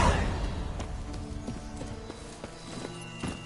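A horse gallops in The Witcher 3 game, its hooves clip-clopping in a quick, steady rhythm at moderate volume, with a faint musical tone underneath.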